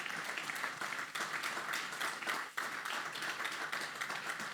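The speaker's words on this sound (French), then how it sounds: "Est-ce qu'on peut acclamer très fort pour le Seigneur?" A church congregation at a Sunday service claps and applauds loudly, a dense continuous patter of many hands with a brief dip in the middle before it picks up again.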